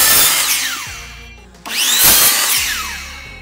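A power saw cuts through stacked mitered wood trim pieces for a planter build in two loud cuts, each whining up and tapering off, split by a brief quiet pause.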